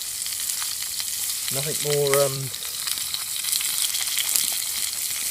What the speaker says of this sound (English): the sound of the old food cooking when it first goes into the oil